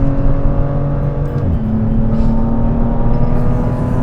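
A BMW M2 with a dual-clutch transmission accelerates hard from low speed, its engine note climbing steadily and loudly with a brief dip near a gear change before pulling on, heard from inside the car with no talking.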